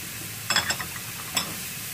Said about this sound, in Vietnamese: mình xào cái phần tỏi với sả này cho nó thơm